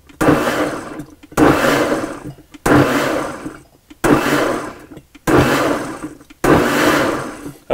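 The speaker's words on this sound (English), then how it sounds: "you can skip the part here with the blender, but I'm just going to pulse this just a few times." A blender pulsing tomatoes and garlic for pizza sauce, six loud close bursts of whirring blades, each about a second long, separated by brief pauses.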